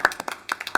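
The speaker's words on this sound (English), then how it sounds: "We owe them a round of applause for all the work they've done." A few scattered hand claps from a council meeting audience thanking staff, sparse and uneven, about seven sharp claps in under a second, moderately close and thin rather than a full ovation.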